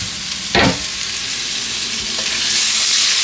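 Crab rubbed with turmeric and salt frying in hot oil with spices, a loud continuous close sizzle with a brief clatter near the start.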